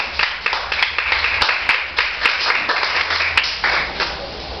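A church congregation applauding, a dense run of many hands clapping at moderate loudness with uneven peaks, filling the room and fading slightly near the end.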